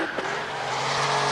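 A Porsche 911 Turbo 964 with a 3.6 engine launches hard, its tyres squealing: a brief, loud roar with a rising screech, heard close and alone.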